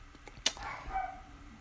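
Dogs barking excitedly from downstairs, one sharp bark followed by a longer yelping whine, somewhat distant and muffled in an indoor room.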